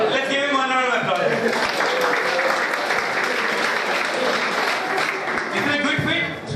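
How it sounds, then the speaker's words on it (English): Loud, dense audience applause from a crowded lecture hall at a higher education programme, a steady wash of many hands clapping for several seconds before tapering off. "Let's give him 1 round of applause."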